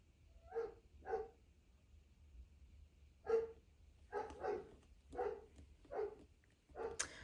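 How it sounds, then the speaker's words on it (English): Dogs on a housing estate bark in a series of about eight sharp woofs, some in quick pairs, moderately distant and alone against a quiet indoor background. "excuse the dogs, they're barking at that yappy little thing"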